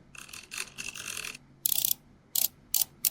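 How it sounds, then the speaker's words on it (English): Mechanical clicking and ratcheting bursts, close and crisp, in several separate runs with short pauses between them. "these are 3 different kinds of mechanical sound effects"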